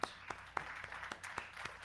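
Scattered applause follows a lot sold at a New York watch auction, as a small crowd's sparse, irregular claps sound faint and distant.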